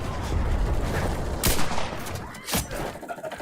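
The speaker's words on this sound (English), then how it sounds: "Why am I hearing gunshots? Incredibly close to me, yeah." Gunfire bursts close by in a video game, loud and dense against constant game noise, with sharp cracks standing out near the middle and near the end.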